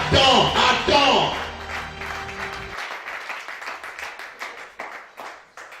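A church congregation applauds, loud clapping mixed with a shouting voice at first, then continuing as scattered, fading rhythmic claps on their own.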